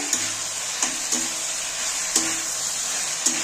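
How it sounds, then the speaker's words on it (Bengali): A spice paste of green chilli, cumin paste, salt and turmeric sizzles steadily in a pan for katla fish curry. A spoon scrapes through it at intervals, giving about six short clacks over the constant frying hiss. "এবার আমি ভালো করে কষিয়ে নেব"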